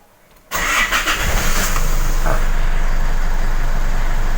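A diesel Isuzu D-MAX pickup engine, with its EGR valve blocked off, cranks and starts abruptly after a short quiet moment, then settles into a loud, steady idle close by.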